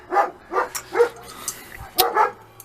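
A dog barks repeatedly, about five or six sharp barks in an uneven rhythm at moderate distance, heard alone in a workshop where twin choke Weber carburettors are being fitted to a Thunderace engine.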